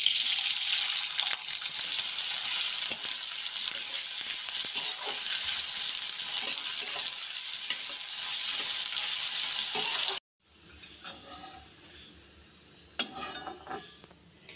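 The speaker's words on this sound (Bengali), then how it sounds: "কড়াইয়ের মধ্যে সরষের তেল দিয়ে আমি পেঁয়াজগুলো বেরেস্তা করে তুলে নেব।" Chopped onions frying in mustard oil in a wok, a loud steady hiss of sizzling that stops abruptly, then a few quieter clinks and stirring sounds.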